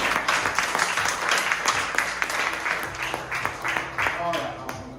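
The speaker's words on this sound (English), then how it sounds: "let's give David a big round of applause" Audience applause for a volunteer joining a magician on a podcast stage, a steady dense wash of clapping that holds for about five seconds with voices chattering underneath and a brief whoop near the end.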